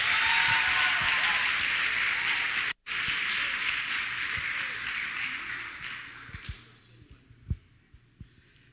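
A church congregation applauds, thick clapping that fills the room for several seconds, briefly cuts out, then resumes and fades to scattered claps and low murmuring near the end.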